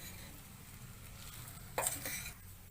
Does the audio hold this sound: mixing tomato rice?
yes